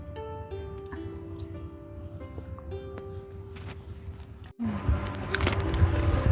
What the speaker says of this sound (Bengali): খাওয়া আমরা শুরু করেছি